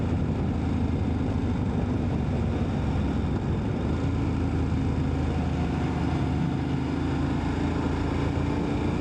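Motorcycle engines idle in a steady, continuous rumble during a mountain motorbike trip, with a dense low drone that holds even throughout. No one speaks.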